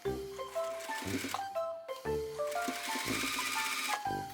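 A sewing machine stitches kimono fabric in steady rapid runs, pausing and restarting, with music playing underneath throughout.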